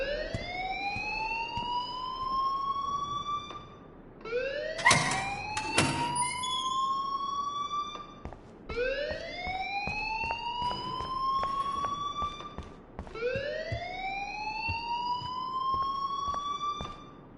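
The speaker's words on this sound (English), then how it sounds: "please turn off that alarm since that's your job" A siren-like alarm in Life is Strange wails in repeated rising sweeps, each lasting about four seconds, loud and steady, with a burst of clattering noise during the second cycle.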